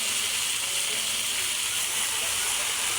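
Kangkong (water spinach) dropped into a pan of sautéed garlic and onion for adobong kangkong gives a loud, steady sizzle and hiss that holds without a break throughout.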